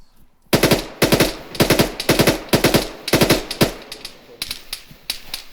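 Rapid bursts of automatic gunfire from an ArmA 3 co-op battle fill the first few seconds, several loud close volleys in quick rhythm, then tapering into fainter scattered shots.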